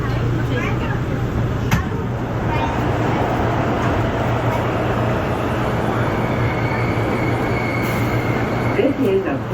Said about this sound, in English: This is a Brooklyn-bound C local train.